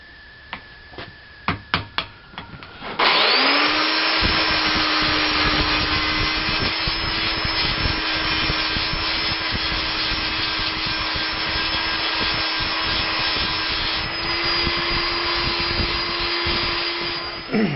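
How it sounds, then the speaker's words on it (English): A power grinder runs steadily to remove old brake pad material from a Polaris Ranger brake, a loud, close, continuous high whine after a few brief knocks and handling sounds. "grind it off, which is probably what I'll do to get the last of it off"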